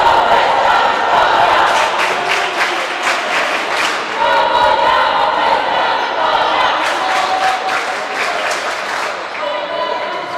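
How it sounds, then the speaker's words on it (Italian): Supporters of the Veneto women's football team chant from the stands during a match against Lazio, a loud, sustained crowd roar with rhythmic clapping and shouts, and a commentator talks faintly beneath. "Facciamo udire il coro delle tifose venete."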